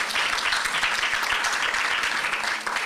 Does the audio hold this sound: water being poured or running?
no